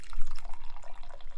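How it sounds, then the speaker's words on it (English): Tea poured into a cup during afternoon tea: a short, close, bubbling trickle of liquid with light splashy drips, alone without talk. "Pour us a lovely cup of tea."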